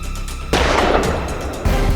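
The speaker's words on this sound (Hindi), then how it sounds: "वर्मा वापस मेरे टारगेट पे आते ही मैंने गोली चलाई" Gunfire in a Hindi courtroom-drama scene: two loud, sharp bangs about a second apart, each trailing into a broad rumble and standing alone without talk.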